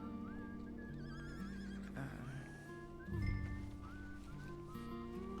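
A horse in a role-playing video game whinnies in high wavering calls over a soft musical background, with a few hoof clops and shuffling, moderately near and quiet overall.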